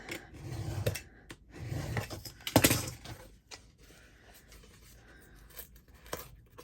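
Scissors cut through a Christmas journal cover in a few close, soft snipping and rustling strokes, followed by quieter paper handling.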